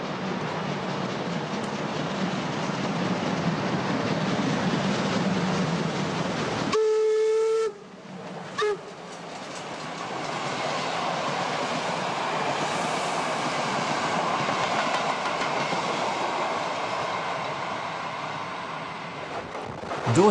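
A train rushes through Berlin-Charlottenburg at 80 km/h or more with a loud, steady roar and rumble, interrupted briefly by a short whistle blast, then continuing its clattering rush.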